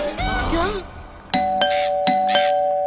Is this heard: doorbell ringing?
yes